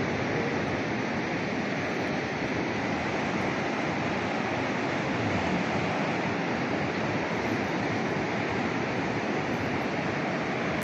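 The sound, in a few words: sea waves on the beach at Digha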